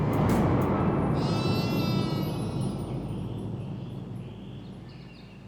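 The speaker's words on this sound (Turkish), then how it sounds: "Keçi mi o?" A goat bleats amid a noisy outdoor background with rumble, the calls fading as the sound gradually grows quieter.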